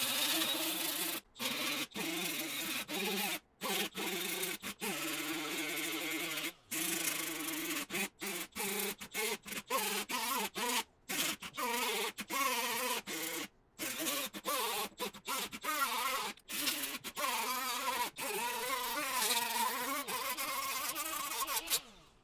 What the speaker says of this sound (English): we're gonna be using just an 80 grit grinding disc